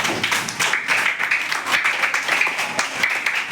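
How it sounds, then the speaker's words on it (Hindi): Children applauding in a classroom, a burst of fairly loud, quick, uneven clapping that carries on steadily throughout with no voices over it. "एक बार जोरदार तालियां इनके लिए।"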